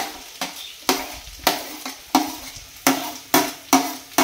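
A frying mixture with banana pieces is stirred in a pan, giving sharp scraping strokes about every half second over a steady sizzle, close and clear with no talking.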